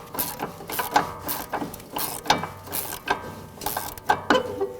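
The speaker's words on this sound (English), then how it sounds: "take your 5 millimeter Allen head socket, get that in there, and you're gonna spin it just like this." Rhythmic ratcheting clicks from a 5 mm Allen head socket being spun on a strut of a 2015–2024 Jeep Renegade, repeating metallic bursts about every second, close and fairly loud with no talking.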